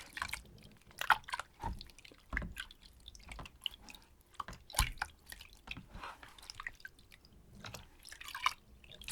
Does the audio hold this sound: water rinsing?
yes